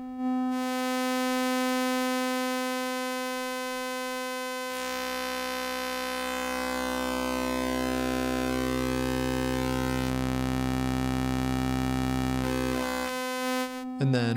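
Oscillator tone from a Strega synthesizer module as its tones (timbre) knob is turned: a steady buzzy drone whose harmonics shift and sweep, thickening midway into a smeared, shifting texture before a brief change at the end.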